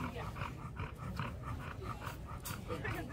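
An old 15-year-old pit bull pants steadily and close by, quick rhythmic breaths repeating throughout, with a faint whimper-like note now and then over low background noise.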